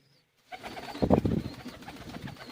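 Teddy pigeons coo in a loft, with low rolling calls that start after a brief silence and swell in the middle, fairly close and alone.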